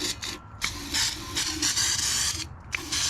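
Brake cleaner sprayed from an aerosol can onto valve covers, a series of loud hissing bursts of varying length separated by brief pauses, close up with a faint mechanical rattle underneath.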